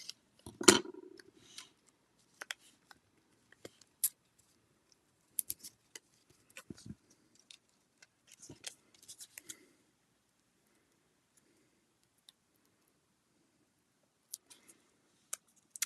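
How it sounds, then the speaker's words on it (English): Scissors snip small dimensional paper pieces in a quiet room: a sharp cut near the start, then scattered faint clicks and snips spread out over the following seconds. "I'm going to cut them even smaller"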